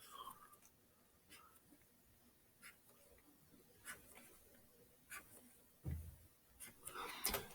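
A pencil or pen draws a line on paper in a classroom lesson, faint close scratching strokes in short bursts, quiet and intermittent without talk.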